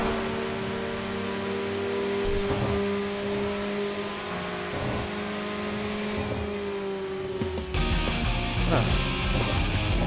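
A Mazda RX-8 in the Tokyo Xtreme Racer video game drives with a sustained engine drone that shifts in pitch as it accelerates, with a louder surge near the end.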